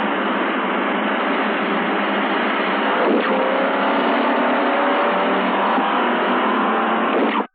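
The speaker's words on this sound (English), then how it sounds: "Both cars will accelerate together up to 50 miles an hour, hold on 50, then on signal accelerate to 80." A Chevrolet Impala and a rival car accelerate together on a test track from 50 to 80 mph, a steady, loud, broad engine roar with a rising tone midway, continuous and alone until it cuts off abruptly.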